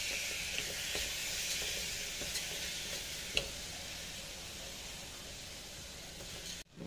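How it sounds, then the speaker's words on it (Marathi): Jaggery, rice and grated coconut in ghee being stirred in a pan for a sweet coconut rice dish; a faint, even sizzle with soft scraping and one sharp clink of the spoon against the pan. "आता हे सर्व मिक्स करून घेते."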